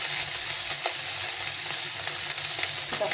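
Small mola fish fry in hot oil, giving a steady, dense sizzle that continues close and alone throughout.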